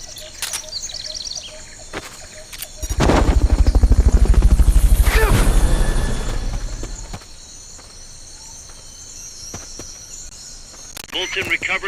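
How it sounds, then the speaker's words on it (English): In Metal Gear Solid: Peace Walker, a helicopter's rotor thumps in rapid rhythmic beats, swelling loudly for a few seconds and then fading, with game sounds and a voice around it. "Fulton recovery subject confirmed onboard helicopter."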